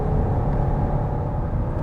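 A 2023 Chrysler Pacifica Pinnacle Hybrid minivan being driven hard on twisty back roads, giving a steady low engine and road rumble heard from inside the cabin.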